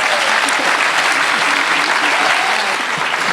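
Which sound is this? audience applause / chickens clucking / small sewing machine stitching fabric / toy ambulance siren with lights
audience applause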